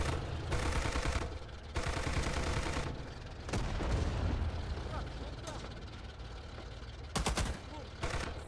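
Bursts of DP-28 light machine gun fire in the Rising Storm 2: Talvisota Winter War game, several loud rapid volleys broken by short pauses, with other battlefield gunfire mixed in.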